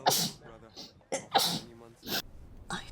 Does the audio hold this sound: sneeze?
yes